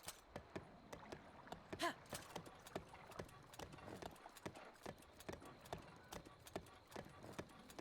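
Video game horse trotting along a road, hooves clip-clopping in a steady, regular rhythm, fairly soft and close, with a faint background ambience beneath.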